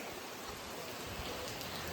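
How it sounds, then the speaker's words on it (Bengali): Steady rain falls outside as a soft, continuous hiss, faint and distant, with no voices. "এই দেখো তো এখানে কত বৃষ্টি হচ্ছে, মানে আমাদের এখানে।"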